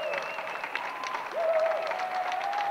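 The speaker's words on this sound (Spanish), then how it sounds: "El silencio solo se rompía a las 8 con el aplauso a los sanitarios." Faint, distant neighbourhood applause at 8 pm for healthcare workers rises across the street, steady scattered clapping with a thin whistle-like tone running through it.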